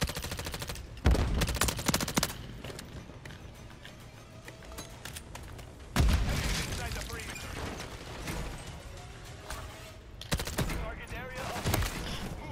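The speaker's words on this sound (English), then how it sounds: "That's that fucking sniper again." Sharp gunshots crack out in Call of Duty MWIII on the Rio map, three heavy reports spaced several seconds apart with bursts of rapid fire between them, loud and close, while someone talks over the battle.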